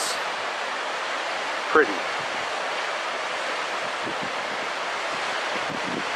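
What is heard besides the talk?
waterfall roaring, Natl Falls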